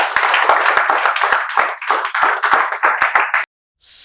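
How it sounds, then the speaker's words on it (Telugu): A group of students clap in welcome, a dense, loud run of close handclaps that stops abruptly near the end before a brief burst of noise. "ఇక్కడ ఉండే విద్యార్థులు మీకు చప్పట్లతో స్వాగతాన్ని తెలియజేస్తున్నారు."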